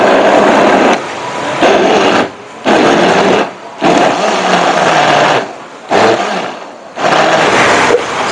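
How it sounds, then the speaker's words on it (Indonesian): Kitchen blender whirring through sambal belacan ingredients with water added, running loud and close in several bursts separated by short pauses as it is switched off and on. "Sekarang ni kita nak blend bahan yang kita dah kumpulkan tadi."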